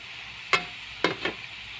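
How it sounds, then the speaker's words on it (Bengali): Pieces of ash gourd poured into a hot pan, a short sharp hiss bursting up followed by two more quick sizzling splashes, close and brief against a quiet background with no talking. "চালকুনোগুলো সব আমি ঢেলে দিলাম"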